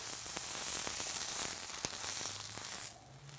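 A Cuban sandwich with braised pork butt sizzling in a preheated pan, a loud steady hiss with small pops and crackles that cuts off sharply near the end.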